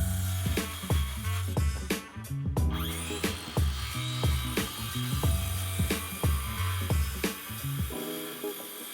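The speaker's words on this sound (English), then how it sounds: "These were particularly tough on the circular saw" A circular saw working through tough wood for a desk build, with a rhythmic run of repeated sharp cutting bursts and spin-downs, loud and close, no talking.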